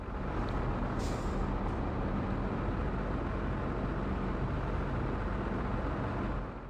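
A truck in the Hitman video game rumbles steadily as it pulls away, with a brief hiss of air brakes near the start followed by a continuous loud engine drone.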